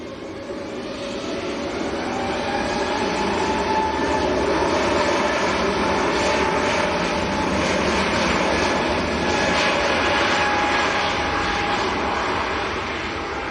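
A Swiss airliner departs Manchester Airport, its engines building to a steady, loud broadband roar that swells after the first couple of seconds and holds, with faint tonal whine riding on top.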